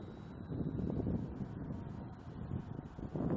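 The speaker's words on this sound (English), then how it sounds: "that's really the weird wind I have here" Wind rumbles and buffets the microphone outdoors while a HobbyKing 1100mm EPP Sbach 342 RC plane flies on a 1600mAh 3S battery, a continuous low roar that swells and dips throughout with no voices.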